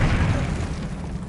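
Fiery explosion from the Confringo blasting spell in Hogwarts Legacy, a heavy low boom that rumbles loudly and steadily for over a second, with no talking over it.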